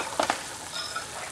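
Curry base with tomato puree, garlic and ginger hitting a hot pan, a brief wet plop followed by a steady close sizzle.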